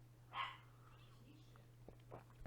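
A house dog gives one short, faint bark in the background behind a quiet room hum, followed by a few soft thumps and a brief yelp-like noise.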